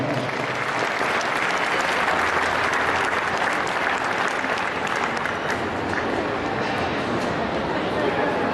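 Sustained applause from an audience at the 2012 Ak-Sar-Ben 4-H Livestock Exposition market lamb show, dense steady clapping filling the hall with a constant crowd murmur beneath it, loud and close throughout.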